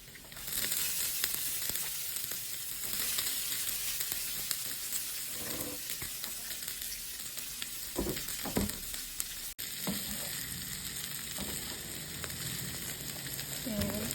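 Mimi noodles stir-frying in a pan with garlic and spring onion, a steady loud sizzle throughout with occasional scraping stirs and a brief break partway, no voices.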